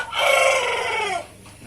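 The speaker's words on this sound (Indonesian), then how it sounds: "kokokannya itu, memang ayam ini masih muda ya" A young rooster crows once in a single loud, drawn-out call of about a second. It is close and alone, in a backyard coop after a flood.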